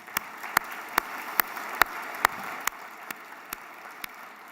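At the State of the Region event, a crowd gives a round of applause for MORPC's team, elected officials and board members. Faint, diffuse clapping runs beneath a few sharp, evenly spaced claps nearby that gradually soften.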